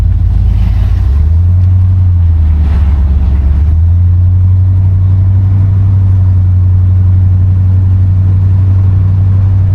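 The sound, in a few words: 1969 Buick Electra 225 car driving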